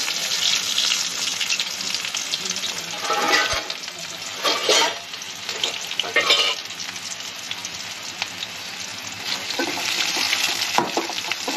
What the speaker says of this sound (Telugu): పచ్చిమిరపకాయలు బాగా వేడైపోయినాయి ఉల్లిపాయ ముక్కలు కొంచెం కరివేపాకు దీంట్లోనే వేసేసాను